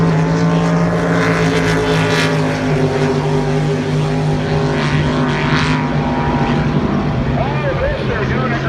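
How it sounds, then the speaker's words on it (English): Loud, roaring racing powerboat engines drone continuously during a race heat, with a rising and falling whine, close by, and no pauses. "So this next race is the Faulkner family boat, SS70."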